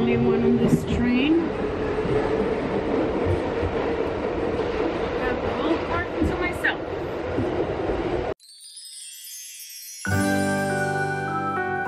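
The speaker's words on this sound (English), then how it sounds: "I am currently the only one on this train." A New York City subway train rumbles and rattles steadily with clickety-clack and faint jingling, then cuts abruptly to a short stretch of music.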